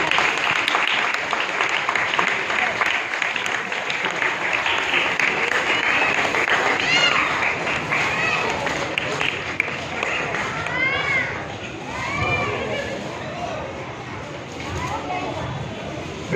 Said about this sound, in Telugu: అందరు గట్టిగా చప్పట్లు పెట్టి